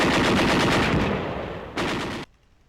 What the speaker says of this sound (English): With BARs and machine guns.